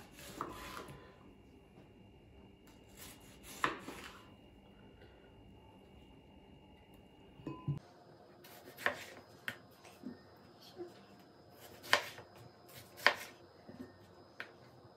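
A knife slices a tomato into rings on a board, with sparse crisp cuts and taps at irregular intervals, a few early and a quicker cluster later, quiet and close, with no talking.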